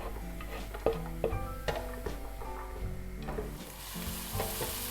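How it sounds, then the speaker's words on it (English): Chopped onion fries in olive oil with a steady sizzle, broken by several clinking stirs and scrapes of a utensil against the pan. "The first thing I'm adding in olive oil is chopped onion."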